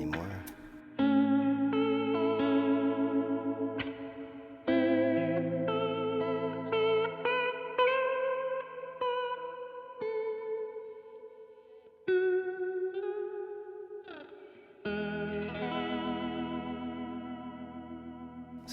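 An electric guitar runs through a Vongon Ultrasheer pedal set to reverb into vibrato in cycle mode, with sustained chords swelling and wavering in pitch under a long shimmering wash, each strum ringing out alone.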